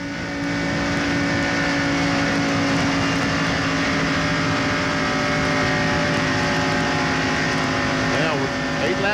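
NASCAR stock cars racing in the 1995 Pepsi 400, a loud continuous roar of multiple engines droning together with a pass-by whine near the end, under race commentary.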